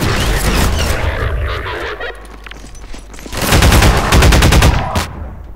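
Heavy automatic gunfire and a booming grenade blast in the shooter game Half-Life 2, loud and close, with a lull midway before another intense burst of rapid shots.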